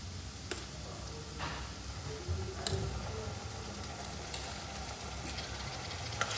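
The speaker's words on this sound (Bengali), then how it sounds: "ভালোভাবে নাড়িয়ে নিচ্ছি পেঁয়াজটা" Quiet, steady sizzling of onions frying in a pan, with occasional scraping and clicking as a utensil stirs them.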